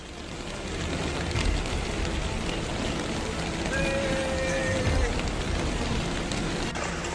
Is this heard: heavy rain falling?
yes